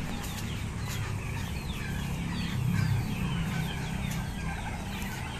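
A dense flock of poultry, including Brahma chickens, clucks and chatters before feeding, a close, busy chorus of overlapping calls that swells briefly in the middle.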